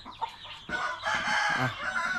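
Hens cluck and a rooster crows nearby, loud and close, in a busy farmyard of four-month-old chickens, with no talking.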